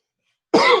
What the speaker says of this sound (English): Oh, I got a cough there